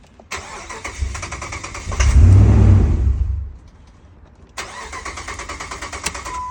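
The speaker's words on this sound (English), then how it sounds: "We have a Dodge Ram with a Hemi in it, having a hard time starting." A Dodge Ram with a Hemi engine cranks loudly for about a second and a half but fails to catch, set between stretches of steady mechanical clicking or buzzing before and after.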